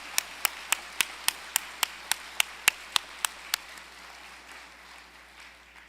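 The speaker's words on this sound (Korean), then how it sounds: "우리 다시 한번 힘찬 감사의 박수를 쳐주시기 바랍니다." A church congregation at an elders' association worship service claps about a dozen evenly spaced, sharp hand claps in unison, close and distinct, then fades into quiet room murmur.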